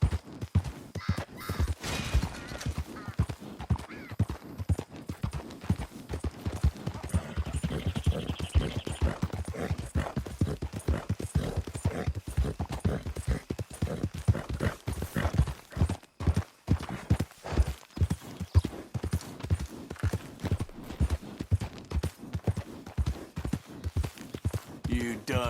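Horse hooves galloping in the video game Red Dead Redemption 2, a fast, continuous, rhythmic clatter of hoofbeats, with brief spoken words from a rider at times.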